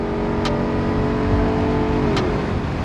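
Jeep Wrangler Rubicon 392 with its V8 accelerating on the freeway, a steady strong engine drone that pulls higher, close and loud inside the cabin.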